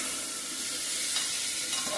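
Carrot, potato, cauliflower and peas being sautéed and stirred in a hot pan, a steady broadband sizzle with faint scraping of the spatula, close and continuous, no talking.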